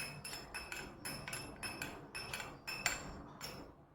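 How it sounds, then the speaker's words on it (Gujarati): A metal spoon stirs homeopathic medicine into a glass of water, tapping the glass in a quick, regular run of about nine bright clinks, close-up and fairly quiet, with no talking. "પછી 1 ચમચી દવાને પાણીમાં મિક્સ કરી દો"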